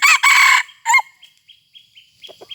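A Thai fighting rooster of the Kai Tor type crows loudly and close by, giving one long call and then a shorter one. Faint chirps and clucks follow in the quiet that comes after.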